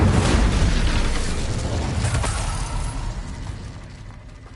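Incendio fire spell cast in the Hogwarts Legacy video game, a loud whooshing burst of flame that starts at full strength and slowly dies away, with no talk.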